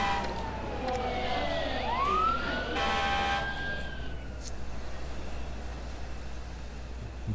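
Fire engine siren in the city-building game SimCity 3000, a rising and falling electronic wail sweeping up and down for a few seconds before fading, over a steady low game background hum.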